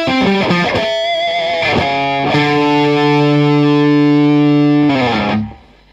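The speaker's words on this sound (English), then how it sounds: "Not a lot of distortion pedals can cover rhythm tones and lead tones, I think, as well as this does." Electric guitar played through a Pastfx Revolution four-stage overdrive/distortion pedal, a few quick picked notes leading into a loud, heavily sustained distorted chord that rings out for several seconds before being cut off.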